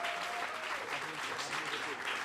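An audience at a televised Swiss comedy talent show applauds after a comedian's set, continuous clapping with voices mixed in underneath, moderately faint.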